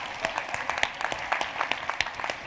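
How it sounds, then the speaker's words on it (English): Audience applause for Carlos at a business conference, a steady wash of many hands clapping with sharper individual claps popping out, sustained and fairly close throughout. "But I think we need to give him a round of applause to Carlos."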